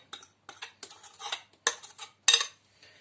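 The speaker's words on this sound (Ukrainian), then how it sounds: "Все розмішую" A spoon clinks and scrapes against a bowl of egg mixture for Easter bread dough in a series of short, uneven strokes, close by, with brief pauses between bursts of stirring.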